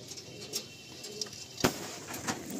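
Pigeons in a loft coo softly in short, repeated calls, close by, with a few sharper chirps and light rustling between them.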